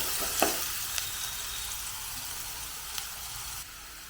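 Salted masala sautéing in a pan, a soft, even sizzle with a few faint scrapes of stirring, close and unaccompanied by speech.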